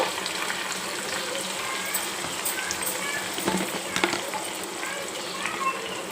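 Continuous crackling sizzle of garlic, curry leaves, dried red chillies and asafoetida tempering in hot oil, with a few sharper pops and spatters partway through.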